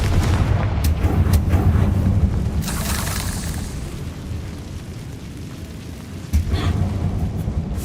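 Blasts of the Confringo spell in Hogwarts Legacy: sharp booming bursts near the start, a longer crackling explosion a few seconds in, and another thud later, over a continuous rumble.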